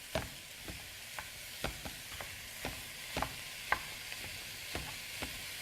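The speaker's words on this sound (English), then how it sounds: "I'm just using my chop and stir to break up that ground beef" Ground beef gets broken up in a pan with a chop and stir tool, steady rhythmic scraping taps about twice a second over a constant soft sizzle.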